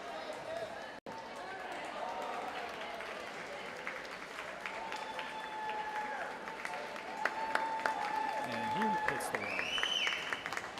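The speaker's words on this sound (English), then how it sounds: "Canton, or Stoughton I should say, cheering on their swimmer in lane 2" Spectators cheer for a swimmer in lane 2 at the Hockomock swimming championship, a steady indoor crowd roar with clapping and shouts that swells toward the end, with a whistle-like tone partway through and voices mixed in.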